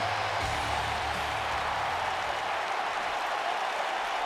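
Arena crowd noise from the WWE 2K wrestling game inside the Alamo Dome in San Antonio, a steady, dense roar of cheering that holds evenly throughout with no speech over it.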